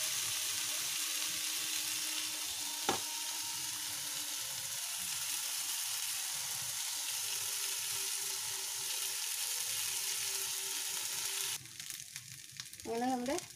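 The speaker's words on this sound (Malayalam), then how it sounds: "നമുക്ക് ഇതിലേക്ക് റൈസ് മിക്സ് ചെയ്യാം." Cooked rice being stirred into tomato rice masala in a pan: a steady, close sizzle and scraping under a constant frying hiss, ending in a few brief louder scrapes.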